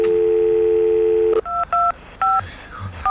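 Payphone dialing in GTA V: a steady dial tone cuts off, then a few short keypad tones beep in an uneven sequence, clear and close with no talking.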